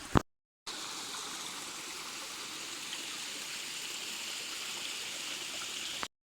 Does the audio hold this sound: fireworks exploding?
no